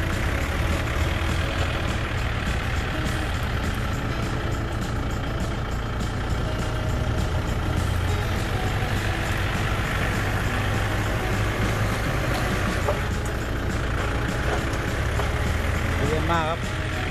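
A Kubota L5018 or Yanmar EF514T tractor engine runs steadily at close range during field ploughing, a loud, constant diesel drone with a rattling low rumble that goes on without a break.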